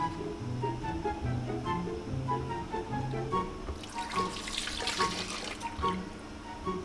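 Water and condensed milk pour steadily into a blender with a bright splashing gush, over a low hum of background music.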